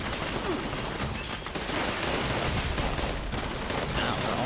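Enemies fire guns in Fallout 76: a continuous, rapid barrage of overlapping shots and bursts rattles on without pause, moderately distant and filling the whole stretch.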